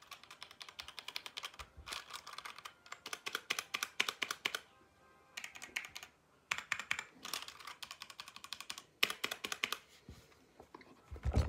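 Rapid clacky typing on a HyperX Mini 60% mechanical keyboard in bursts, with brief pauses between flurries of keystrokes, close and clear.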